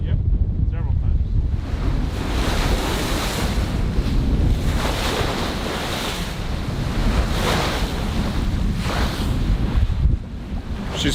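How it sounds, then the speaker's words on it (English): Ocean waves crash and rush against a sailboat at sea on the Pacific while strong wind buffets the microphone, a constant loud roar with surging swells. "We've been taking waves all day."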